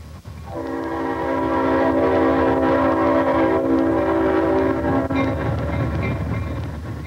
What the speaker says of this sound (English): The coal trains are still running